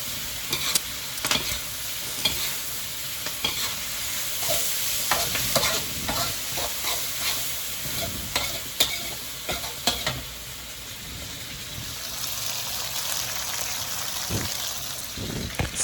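Brinjal with basil and minced pork is stir-fried in a pan, with a steady close sizzle under repeated scraping and tapping of the spatula that keeps going throughout, with no talking.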